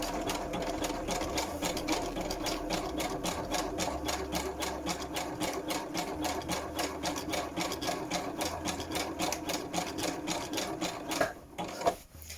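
Sewing machine stitching elastic onto fabric at a slow, steady speed, a close rhythmic mechanical whir and clatter running continuously, then stopping near the end with a couple of soft handling clicks.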